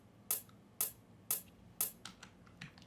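Hi-hats in an electronic remix, a crisp, faint series of four evenly spaced ticking hits followed by softer, quicker taps, with no voices.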